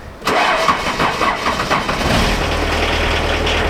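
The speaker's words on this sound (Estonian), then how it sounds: "Need Audid on nii kõvad pillid, et need lähevad alati käima." An old Audi car engine cranks briefly, catches and starts, then settles into a steady rumbling idle, close and loud with no talking.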